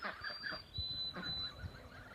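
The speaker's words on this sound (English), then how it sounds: "And there's the other goose" A goose honks a few times in short calls, with other fowl noises and background outdoor sounds around it.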